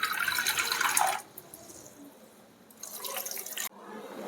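Water is poured into a mixer jar holding ice cubes for raw mango sherbet: a splashing, trickling pour in two bursts with a quieter pause between, close and fairly soft, with no talk.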